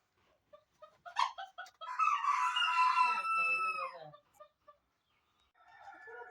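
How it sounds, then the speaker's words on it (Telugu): Chickens at a desert farm house in Wafra, Kuwait, cluck in short bursts around a loud, drawn-out rooster crow, all fairly close and clear. "చూడండి ఫామ్ హౌస్లో కోళ్ళు."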